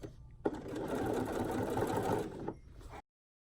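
A sewing machine runs in one continuous close burst of about two and a half seconds, stitching stretched elastic into the waistband of a pair of joggers, then stops.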